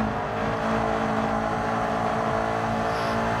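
Racing car engine held at full throttle in a video game, a steady loud drone with a sustained harmonic whine and no pauses, playing alone without talk.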